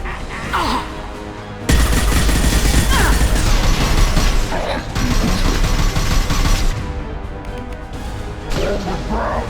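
Gunfire in a Mass Effect 2 video game battle: dense, loud bursts of weapon fire and crashing impacts pour out almost continuously after a quieter opening, with brief dips and combat shouts mixed in.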